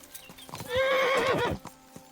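Horse ridden along a path in the medieval game Kingdom Come Deliverance 2: soft hoof clops tap steadily around a single loud, wavering whinny that swells and fades near the middle.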